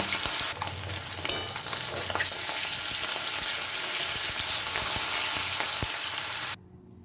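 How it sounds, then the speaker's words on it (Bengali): Fish frying in hot oil while pieces are stirred in the pan for a Bengali fish curry, a steady close sizzle with scraping stir sounds throughout, cutting out abruptly near the end. "বাকি মাছগুলো আমি ভেজে নিচ্ছি বাকি মাছ আমি তেলে দিয়ে দিলাম"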